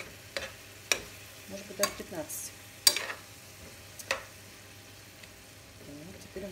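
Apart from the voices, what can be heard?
stirring and stewing liver in a pan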